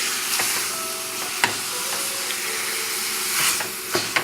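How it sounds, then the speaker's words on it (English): Onions and garlic sauté in olive oil for a Bolognese meat sauce, a steady close sizzle and hiss broken by a few sharp clicks of a utensil against the pan. "I'm going to put some olive oil in there and saute the onions and the garlic"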